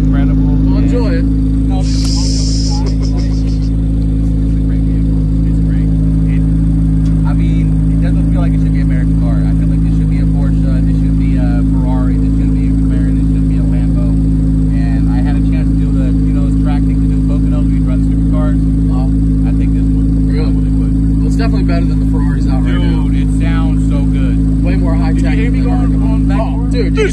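A 2023 C8 Chevrolet Corvette Z06 engine droning loudly and steadily from inside the car, a constant deep hum with a brief higher burst early on and faint voices underneath.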